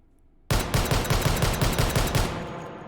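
Desert Eagle .50 AE pistol with a 14-inch barrel in the H3VR video game, a rapid string of about a dozen loud, close gunshots in even rhythm after a brief quiet start, ending in a fading tail.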